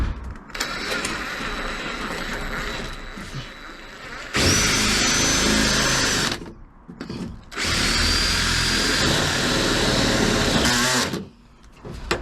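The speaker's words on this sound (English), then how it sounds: "I'm going to get an 8mm drill bit" An electric drill fitted with an 8mm bit bores into plywood for a VW T5 campervan panel, two loud sustained bursts of whirring bite, each about two to three seconds, separated by brief pauses and quieter handling noise.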